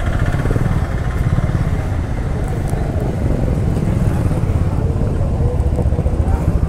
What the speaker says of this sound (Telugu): ఈ బైక్ చూసారా, ఇంటర్సెప్టర్ ఎలా మోడిఫై చేయించాడో